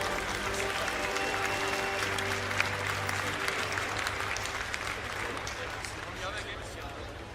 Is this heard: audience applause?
yes